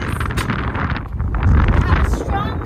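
Strong wind buffets the microphone on a boat near a sandbar at Siesta Key, a constant loud roaring rumble, with a voice briefly audible beneath it.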